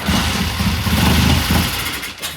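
A green Triumph TR6 engine turns over and catches on a cold start, a dense, loud, rough mechanical rumble that fills the short moment and then eases slightly.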